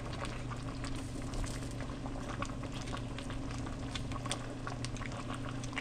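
Stew peas with oxtail, stew beef and chicken foot simmering in a pot, a steady low bubbling with soft pops and patter, close and fairly quiet, no voices.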